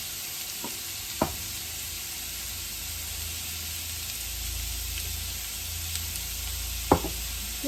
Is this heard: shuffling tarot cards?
no